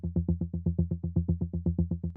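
Plucky synth bass pitched an octave up, with very short envelopes, played as a fast even run of about twenty clipped notes, close and alone.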